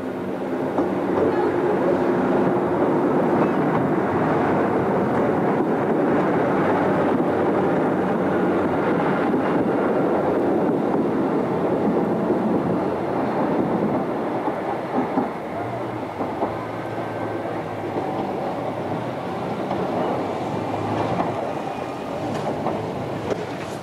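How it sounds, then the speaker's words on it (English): Class 150/2 diesel unit departing Paignton for Exeter, a steady loud engine rumble and rolling wheel noise that holds throughout as the train pulls away from the station. "Here a 150/2 leaves for Exeter."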